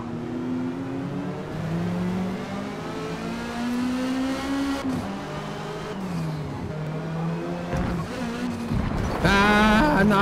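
A turbocharged Group 5 race car in Forza Motorsport revs hard and shifts through gears, engine pitch climbing and dropping repeatedly, with a loud burst of higher revving near the end.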